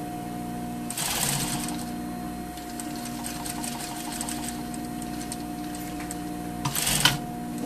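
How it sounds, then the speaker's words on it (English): Sewing machine stitches a trouser crotch seam about one centimetre in, running as a steady, close mechanical whir with a rapid needle patter and a louder burst near the start and again near the end. "so sewing at 1 centimeter from the bottom of the crotch to the notch."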